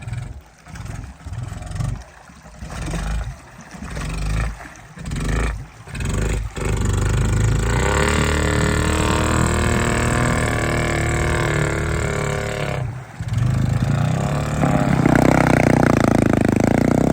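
A snorkeled pit bike engine runs while ridden bars-deep in water, first sputtering in uneven bursts, then holding a loud, steady drone that rises slightly near the end.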